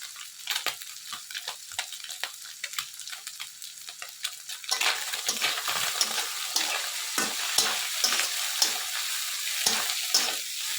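Small fish sizzle and crackle in hot, smoking oil in a home kitchen, with steady spattering that grows louder and denser partway through, punctuated by occasional sharper pops and stirring scrapes.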